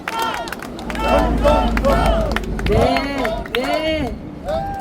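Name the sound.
audience applauding at a political rally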